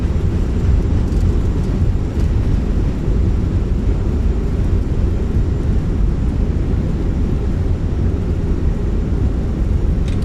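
Thrust reversers on an Airbus A319 in Microsoft Flight Simulator roar during the landing rollout, a loud, sustained, low rumbling wash that holds steady for about ten seconds with no voices over it.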